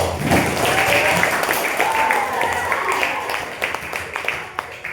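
Students clapping in a classroom geography lesson, a burst of applause that starts strong and thins out over a few seconds, with a teacher's voice and chatter mixed in.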